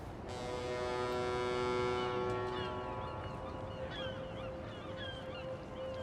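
Geese or similar birds honk near a ferry on the New York waterfront in Spider-Man 2, a loud drawn-out honk first with a low mechanical hum beneath, then shorter calls further off.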